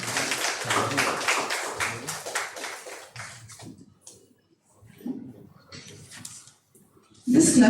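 Hands clap in a quick, steady rhythm for about three seconds in a clapping game. Scattered taps and voices follow, then a sudden loud burst at the very end.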